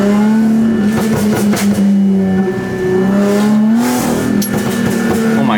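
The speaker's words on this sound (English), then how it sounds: "We're gonna get some pops in the car." Supercharged Audi A6, a flood-damaged car rebuilt toward 500 hp, revving in first gear with a steady, loud engine drone that rises and falls, with no clear separate pops standing out.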